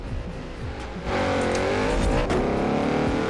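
A Porsche Panamera engine roars in the Forza Horizon 4 racing game, climbing in pitch as it accelerates hard, loud and close, with tire noise and a brief shift in the middle.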